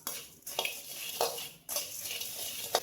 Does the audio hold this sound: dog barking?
no